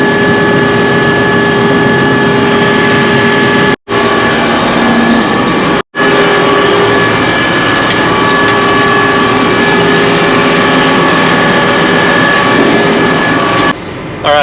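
A farm tractor engine drones loudly and steadily from close by, a constant mechanical roar with a few brief dropouts, heard alone without talk while the tractor heads off to collect a grain cart during corn harvest.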